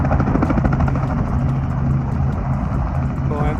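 A helicopter at a tour landing spot in Rio de Janeiro gives a constant, loud, close rotor thrum with rapid, even pulsing, and faint background voices underneath.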